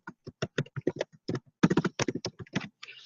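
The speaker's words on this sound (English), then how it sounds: "here I'm just going to type in sample lesson" A computer keyboard is typed on in a quick run of crisp, close key clicks, bunched into short bursts with small pauses, then a brief softer rustle at the end.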